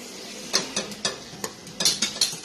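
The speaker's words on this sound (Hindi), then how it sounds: "ये इसे अच्छी तरह से मिक्स कर दें।" Spoon scraping and tapping through an aloo keema mixture with peeled tomatoes in a pot, a handful of light, crisp clinks at an uneven pace, close and fairly quiet, with no voices.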